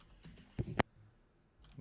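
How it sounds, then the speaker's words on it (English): A few keystrokes on a computer keyboard, with a soft pair of taps followed by two louder close clicks, then near silence. "Just typing this poll in."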